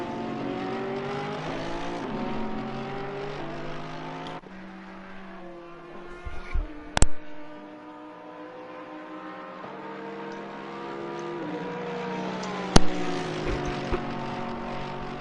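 Mercedes 6.3-litre naturally aspirated V8 race car engine in a racing video game, a steady droning engine note held throughout, shifting pitch with a couple of sharp brief transients partway through.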